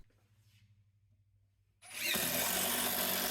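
A Hyper Tough hydraulic impact driver drives construction screws, starting abruptly after a quiet low hum and running as a loud, steady, dense whir with rapid hammering close by until the end.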